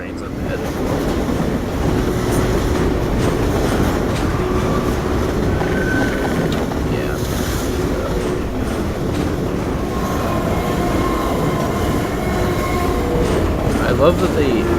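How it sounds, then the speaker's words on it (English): A train rumbles past in the video game Half-Life 2, a loud, continuous rolling roar with faint metallic squeals throughout, while a person talks over it. "Sounds like there's trains up ahead."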